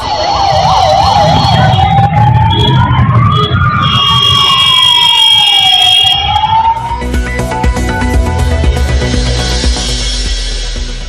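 A wailing ambulance siren, stuck in congested traffic on OMR road in Chennai, rising and falling, loud and close, then shifting to a different tone amid traffic noise.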